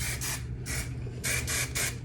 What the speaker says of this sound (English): now I'm just gonna do a spray on everything